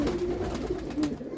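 Pigeons kept in a netted loft coo softly and repeatedly, a low rolling murmur close by with no talking.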